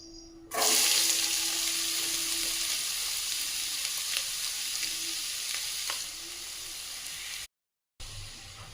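Chopped onions drop into hot oil with mustard seeds and cumin, bursting into a loud, broad, steady sizzle that hisses on close up, easing slightly before a brief cut-out.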